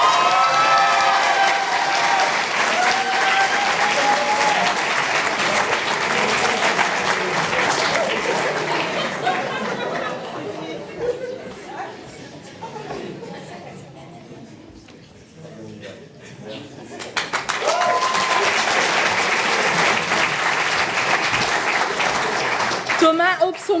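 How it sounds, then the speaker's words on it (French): Audience applause at a diploma ceremony, a loud dense clapping crowd that fades to near quiet midway, then swells again into strong sustained applause. "Je voudrais qu'on applaudisse fort, fort, fort Juliette Mixa."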